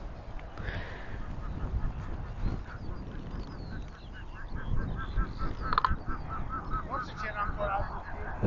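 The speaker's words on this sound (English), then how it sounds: "It sounds like a goose." A goose or duck calls with repeated nasal honks and quacks, fairly far off, among wind and people talking outdoors at a prehistoric village site in Orkney.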